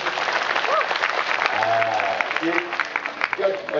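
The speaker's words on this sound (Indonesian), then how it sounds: "Tepuk tangan untuk beliau." An audience at a cultural talk gathering in Cangkringan claps in a dense, sustained burst of applause, with a few voices and cheers rising out of the crowd.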